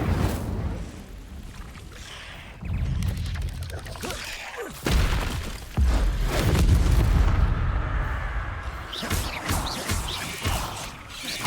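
An Incendio fire spell is cast in the video game Hogwarts Legacy, with roaring fiery bursts and deep booming impacts that surge and fade amid swirling magical effects and combat noise, loud and close.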